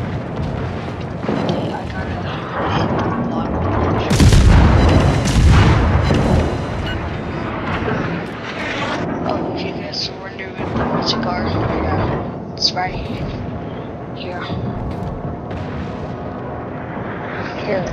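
Heavy video game gunfire and explosions boom and rumble almost without pause, loud and dense, with the biggest blasts near four to six seconds, while someone talks over the din.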